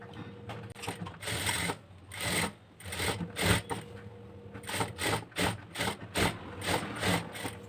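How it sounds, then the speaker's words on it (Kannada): A sewing machine stitches a binding strip onto a blouse neckline, running in repeated bursts with mechanical whirring and clatter and brief pauses between runs, close and clear with no talking. "ಇವಾಗ ನಾನು ಇದಕ್ಕೆ ಬೈಂಡಿಂಗ್ ಪಟ್ಟಿನ ಸ್ಟಿಚಿಂಗ್ ಮಾಡ್ಕೋಬೇಕು"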